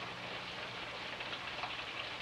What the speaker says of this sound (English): Stuck at the gas station in all this rain.